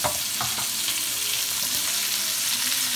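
Red and white onions sauté in a pan for a pot roast, giving a steady, close sizzle with a few soft stirring scrapes across the whole stretch.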